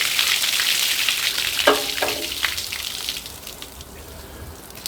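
Coolant water flushes out of the engine block of a John Deere MT tractor, a steady hissing, splashing flow that sounds almost like sizzling and slowly grows softer.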